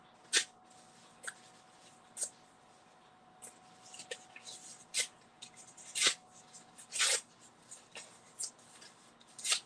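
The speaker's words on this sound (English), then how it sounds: "It's so much easier just to rip it." Paper being torn by hand while art journaling: a series of short, sharp rips spaced irregularly, close and moderately loud, with quiet handling noise in between.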